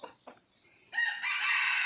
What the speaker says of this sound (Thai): ตัวนี้เป็นไก่ใหม่ครับ